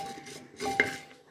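A wooden spatula scrapes and clacks against a pan of rice being stirred for puffed rice in a pressure cooker, with a few close, short knocks and scrapes.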